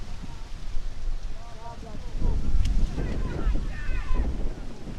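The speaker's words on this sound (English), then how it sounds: "With a bit of wind over the ground here" Gusty wind buffets the microphone at a community football ground during a women's semi-final, a rumbling blustery roar with a commentator talking over it throughout.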